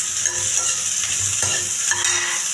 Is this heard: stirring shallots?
yes